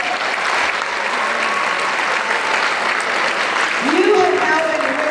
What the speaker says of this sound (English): let's give ourselves a little applause too